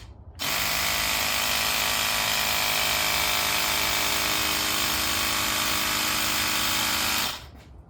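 Air pumps into a CycleKart tire in one continuous, loud, buzzing hiss with a steady mechanical hum, starting abruptly and cutting off cleanly after about seven seconds.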